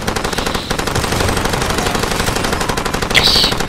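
Sustained automatic machine gun fire in the Far Cry 2 video game, a dense continuous rattle of rapid shots lasting throughout, loud and close, with a brighter burst near the end.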